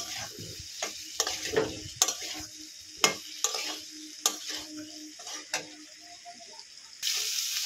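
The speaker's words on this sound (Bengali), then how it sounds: "এবারে ভেজে রাখা ফুলকপি আর আলুটা দিয়ে দেবো। ভালো করে এবারে কষিয়ে নেব।" Fried cauliflower and potato pieces stir-fried in spice masala, steady sizzling broken by repeated sharp scraping knocks of a spatula in the pan, alone without talk.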